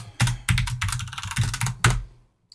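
Close, crisp keystrokes on a computer keyboard while C++ code is entered: a quick run of about eight clacks in uneven rhythm with a heavier thunk near the end, then silence, with no talking.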